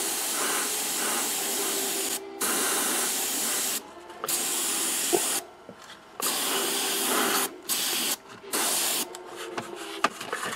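Aerosol spray paint hisses in a series of bursts over about ten seconds as miniature models from a Dropzone Commander starter box are primed, each blast separated by short quiet gaps, close and steady.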